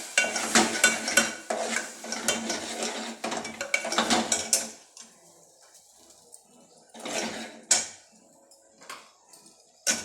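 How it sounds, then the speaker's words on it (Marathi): Ground spice paste being stirred and mixed in a pan on a gas stove, a busy scraping and sizzling rattle that stops after a few seconds, then returns in two short bursts, close and fairly loud, no talking. "गॅस चालू करायचा चांगला मिक्स करून घ्यायचा आता"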